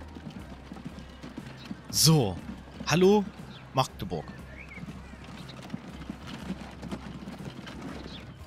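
Horse hooves clip-clop in Transport Fever 2 around Magdeburg, a few brief clustered knocks early on amid ambient game noise while someone talks over them.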